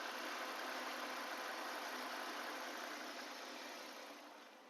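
A 2008 Hyundai Santro car engine idling, a steady close hum and whir that holds evenly and then fades slightly toward the end.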